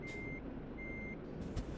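Truck reversing beeps in a driving video game, two steady electronic tones sounding over a constant low engine drone.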